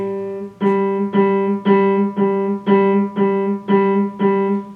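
A pitched note repeats eight times in an even, steady pulse, each short tone sounded clearly with tiny gaps between.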